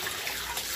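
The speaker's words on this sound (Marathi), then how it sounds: "आता मी या पाण्यामध्ये ठेवते." Freshwater crab pieces with legs and claws snapped off are set into a basin of water for washing, giving a steady close splashing and sloshing that runs without pause.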